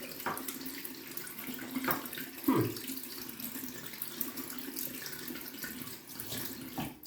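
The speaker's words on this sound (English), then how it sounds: "Not gonna leave the water running" Water runs steadily from a tap into a sink, a continuous splashing stream with a brief louder gush partway through.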